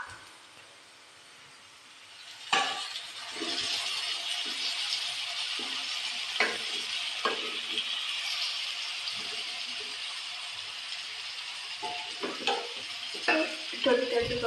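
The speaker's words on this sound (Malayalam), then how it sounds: "ഇനി നമുക്ക് ആ വെന്ത ബീഫ് ഇതിലോട്ട് ഇട്ട് കൊടുക്കാം." Cooked beef tipped into a hot pan for Kerala beef ularthiyathu and stirred through, a steady sizzle after a quiet start, broken by repeated scraping and clattering strokes of a spoon against the pan.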